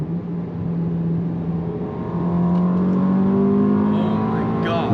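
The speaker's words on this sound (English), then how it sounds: "you can easily hear like the intake now" A big-turbo Audi A3 running E85 revs up under load with a deep, rising turbo intake roar, growing louder and steadier as it accelerates.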